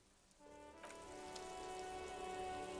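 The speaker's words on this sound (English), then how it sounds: "This rain will not let up anytime soon." Steady rain in the video game Disco Elysium: a soft, continuous hiss of falling drops that swells slightly, faint and alone with no voices.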